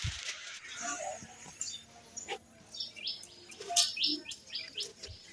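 Birds at a madrasa chirp and tweet in quick, scattered bursts throughout, fairly close and moderately loud, with light background noise and occasional faint speech.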